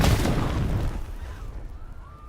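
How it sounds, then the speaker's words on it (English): A single big video game explosion in an undead Stand game, opening with a loud broadband blast that rumbles and fades over about two seconds, followed by a faint tonal game sound. "That just exploded."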